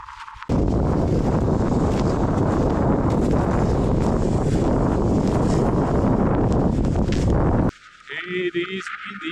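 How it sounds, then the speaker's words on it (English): Strong wind blows across frozen Spray Lakes, used for ice fishing in a Rocky Mountains valley, roaring loud and continuous against the microphone, then suddenly drops off near the end. "This lake gets pretty windy."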